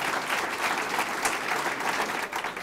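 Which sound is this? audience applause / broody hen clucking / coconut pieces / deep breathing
audience applause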